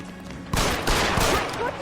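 Gunfire from the video game L.A. Noire rings out in a few quick, sharp bursts over about two seconds, loud and close.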